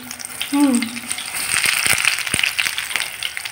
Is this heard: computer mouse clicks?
no